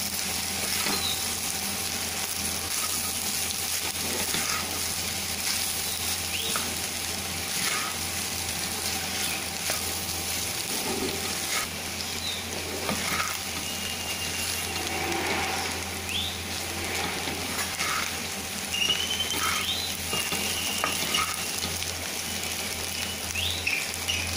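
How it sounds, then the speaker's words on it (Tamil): Egg fried rice being stirred and mixed in a hot pan, a steady low sizzle with soft scraping and shuffling throughout, no voices. "இப்போ எல்லாத்தையும் நல்லா ஒன்றா மிக்ஸ் பண்ணி வைக்கணும்"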